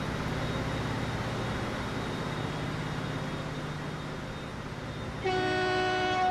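A train departs in the Transport Fever 2 game: a steady, loud rolling rumble builds, and a bright, sustained horn blast sounds near the end. No one speaks.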